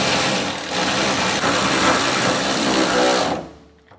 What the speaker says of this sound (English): So we're using an electric ratchet to make this a little easier.